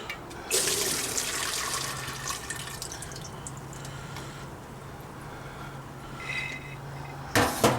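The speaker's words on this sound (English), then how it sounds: "I'm also going to rinse it with a little bit of fresh water" Water splashes and pours into a pot to rinse bean sprouts, a steady trickling stream close by, ending in a brief louder gush.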